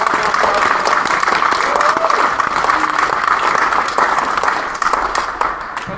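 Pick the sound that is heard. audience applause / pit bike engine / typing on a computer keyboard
audience applause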